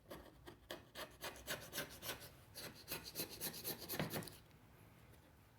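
Carbon buildup is scrubbed off intake valves from a Subaru WRX engine in rapid back-and-forth rasping strokes, a rhythmic brushing scrape repeated about a dozen times, close and fairly loud, then a brief quiet stretch.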